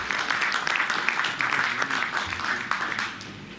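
Applause from the audience at an alumni association's annual general meeting, a moderate, fairly dense crowd clapping throughout, with a faint voice mixed in before it tapers off.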